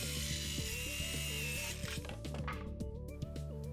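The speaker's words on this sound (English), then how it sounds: "To make these cuts, we're using our Dremel blueprint saw." Dremel saw cutting wooden pickets for a chicken coop, a whining motor tone that drops and shifts as the blade bites into the wood, close and fairly steady.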